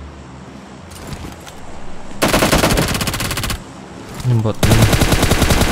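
PUBG Mobile gunfire: scattered shots, then two long bursts of rapid automatic fire, loud and close, with a brief spoken word between bursts.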